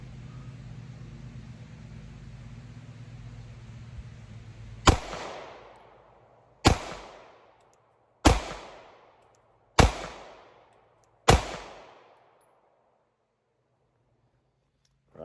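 Five loud, sharp pistol shots from a Shadow Systems CR920 firing 124 grain Blazer brass at about 10 yards. The shots come at roughly even intervals, each followed by a short decaying echo, after a stretch of low background noise.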